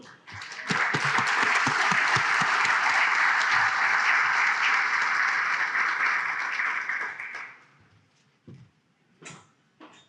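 An audience at an entrepreneurs' society inductee dinner applauds to welcome a speaker, a loud, steady wave of clapping that swells, holds for several seconds, then thins out into scattered claps and quiet room noise.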